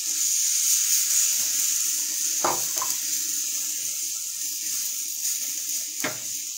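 Water runs from a tap into a cooking pan of sautéed garlic and chili powder, a steady close splashing hiss with a couple of faint knocks.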